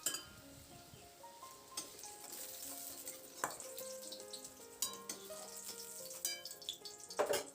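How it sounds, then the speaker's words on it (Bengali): Eggplant pieces sizzle and fry in oil in a pan while a utensil stirs them, giving a steady crackling hiss punctuated by clinks and scrapes. "তো বেগুনটা দিয়ে নাড়াচাড়া করে দেখুন বেগুনটাকে বেশ লালচে করে আমি ভেজে নিয়েছি"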